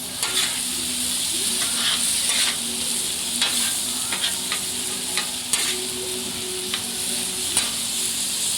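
Seafood paella with long grain basmati rice sizzles and fries steadily on a Blackstone griddle, a continuous loud hiss broken by occasional scrapes and clicks of stirring, with no talking.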